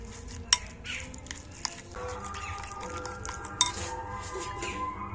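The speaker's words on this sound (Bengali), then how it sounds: "জল দিয়ে এটাকে খুব সুন্দর করে আমি গুলে নেব" A spoon clinks against a bowl while flour batter with chopped coriander is mixed with water, giving light scraping and a couple of sharper taps over a steady low background.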